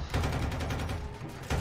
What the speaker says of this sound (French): Avec la mitrailleuse